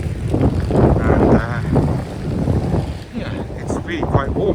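Wind buffets the microphone near Russell Square in Bloomsbury, London, with continuous low rumbling and gusty noise, steady throughout with a slight dip in the middle.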